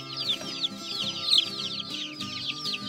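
A flock of chickens and small chicks clucking and peeping in a coop, with a steady stream of high chirps over lower, rhythmic hen clucks, fairly close and continuous.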